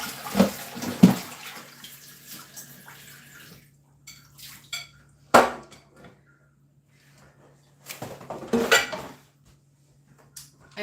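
A mixing bowl being washed out in a kitchen sink: bursts of running water and splashing, a clatter of the bowl against the basin, and quiet pauses between, with a faint steady hum underneath.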